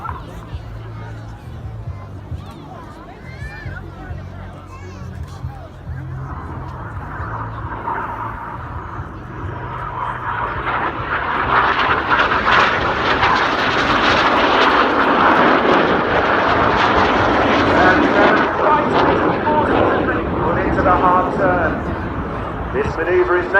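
Red Arrows synchro pair jets roar past at an airshow, the engine noise swelling from a distant rumble into a loud, broad sustained roar overhead, with crowd chatter and a commentator's voice beneath.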